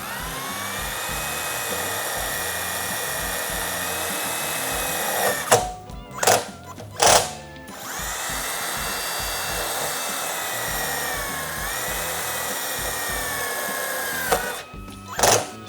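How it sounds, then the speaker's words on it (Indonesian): Dongcheng DCPL208 impact driver running in medium mode, driving into light steel: a sustained high-pitched whirring motor whine, interrupted by a few short bursts of rapid clattering impact hammering, loud and close. "Selalu bunyi impact-nya berarti torsinya itu tidak over."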